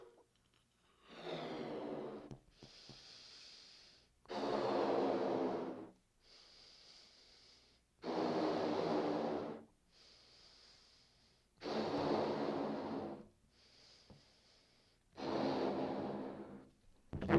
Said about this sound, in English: you've done a couple exhales